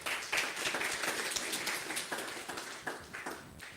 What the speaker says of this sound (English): Let's clap for the panel.